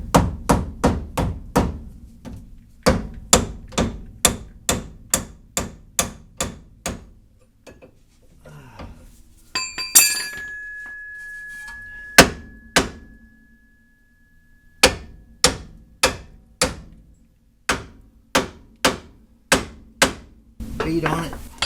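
A hammer beats on the old front-end suspension parts of a second-generation F-body car during a rebuild. Sharp, evenly spaced strikes ring out up close, stop for a quiet spell with a faint ringing tone, then resume in a steady series.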